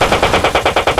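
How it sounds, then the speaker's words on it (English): Rapid machine-gun fire from an Apache attack helicopter in the video game GTA 5, a steady burst of about nine evenly spaced loud shots with no pauses. "We are going to engage the targets with the Apache. Fire."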